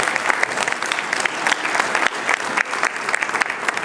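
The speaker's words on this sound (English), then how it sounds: "Apparently we can't hold our applause until the end." Church audience at a Lutheran congregation's 125th anniversary celebration breaks into loud, sustained applause, a dense crowd of clapping hands continuing evenly throughout.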